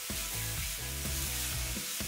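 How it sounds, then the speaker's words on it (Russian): Gochugaru red pepper frying with sugar and soy sauce gives a steady, close sizzle with soft stirring scrapes layered over it, and it carries on without any voices. "Хорошо перемешиваем и жарим еще пару минут."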